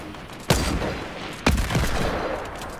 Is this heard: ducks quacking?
no